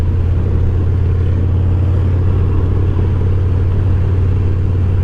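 A Harley-Davidson Dyna motorcycle engine, recently repaired, idles with a loud, steady low rumble and faint clatter, close by and without talk.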